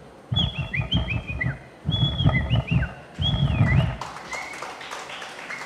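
At a school district arts festival stage in Kollam, a mimic whistles a bird's call: three clear bursts of warbling, sliding chirps with breathy low sound beneath, then a softer trailing chirp.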